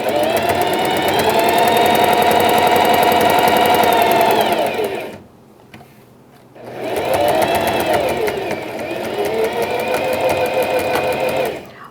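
A sewing machine stitches around the edge of a pet bandana, running in a fast, rhythmic whir for several seconds, pausing briefly, then running again just as steadily up close.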